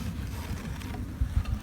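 Honeybees hum softly around an opened mini hive during a check of winter stores, a low steady drone with a few brief soft knocks near the end, no talking.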